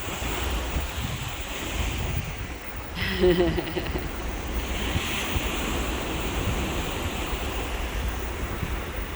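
Gusting wind buffets a phone microphone on the deck of the Norwegian Escape cruise ship, over a continuous roar of ocean waves and surf below, loud and steady throughout with a brief bump of handling noise.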